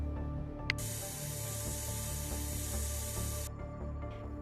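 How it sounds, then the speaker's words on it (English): A steady aerosol spray hisses for about three seconds while an implant is coated in a virtual reality game, starting after a short click and stopping abruptly, over a quiet humming game background. "Grab the spray in front of you and use it to cover the whole front of the implant."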